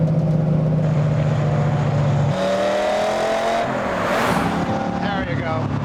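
A classic car driving at speed, with a loud sustained engine drone from inside the cabin that shifts pitch as it changes gear, and people talking over it.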